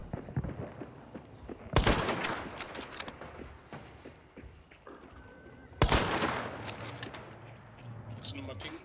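Gunfire in the video game Hunt: Showdown, set in a Louisiana bayou: two sharp loud shots ring out several seconds apart, each followed by a rolling echo, with scattered quieter pops and faint talk between them.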